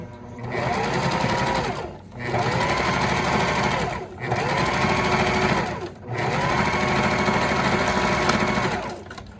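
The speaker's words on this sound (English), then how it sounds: "Fold it over and top stitch it." Sewing machine top stitching a folded slip pocket for a ladies' wallet, running in steady loud bursts of about two seconds each with brief pauses between, close and clear.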